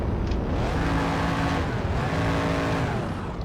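A heavy car driven in a tornado-themed video game, its engine roaring loudly and steadily with shifting revs and a brief tire squeal, alone without talk.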